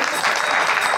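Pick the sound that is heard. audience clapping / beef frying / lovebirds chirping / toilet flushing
audience clapping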